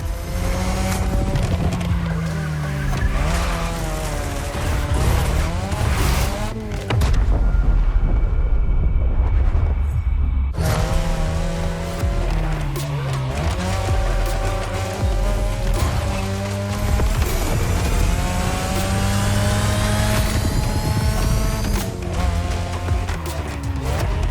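A third-generation 2002 Mazda RX-7 with a lightweight, compact rotary engine drives in The Crew Motorfest, set in Hawaii. It revs loudly and steadily, with rising and falling pitch sweeps and a short, quieter break partway through.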